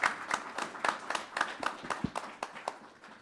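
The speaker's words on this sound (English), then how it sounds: "A big round of applause for them." Audience applauding at the close of a roundtable panel on artificial intelligence, a steady patter of many hands clapping, moderately near, with no talk over it.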